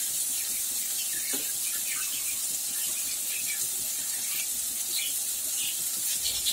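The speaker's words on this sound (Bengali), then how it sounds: "লাল লাল করে ভেজে নিচ্ছি" Food frying in a pan until reddish gives a steady, bright hiss and sizzle with scattered small pops throughout, heard alone without talk.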